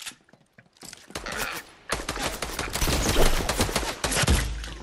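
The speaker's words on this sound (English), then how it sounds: "Alright, you have Sky's Assault Rifle now." Assault rifle fire in an online shooter game, dense bursts of rapid shots rolling almost continuously after a few sparse clicks, loud and close with no talking.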